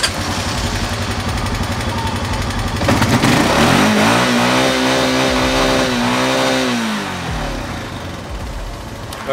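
A car engine revs loud and close, climbing and holding high, then falling back in a steady sweep with a rough, buzzy tone, and no voices are heard.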